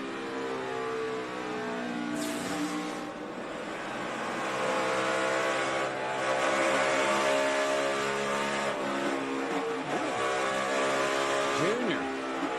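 NASCAR stock cars weighing about 3,500 pounds roar past at racing speed, engines droning and whining with rising and falling pitch as they pass, under announcer commentary.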